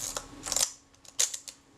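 The film advance lever of a Retina Reflex camera is wound once, giving a short ratcheting burst of mechanical clicks, then a pause and a few lighter clicks, close and isolated.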